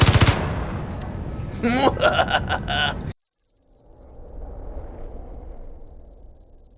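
Rapid gunfire bursts from the video game Space Engineers, loud and dense for about three seconds with rattling impacts, then cutting off abruptly to a quieter rumbling hum.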